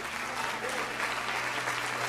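Congregation applauding at a Brazilian church service, a steady dense wash of clapping close by, with some crowd noise underneath.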